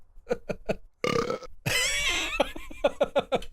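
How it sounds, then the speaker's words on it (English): A cartoonish burp sound effect from the Space Quest III computer game, a long rough belch breaking out after short clipped voice-like blips, with more choppy game sounds following it. "Burp."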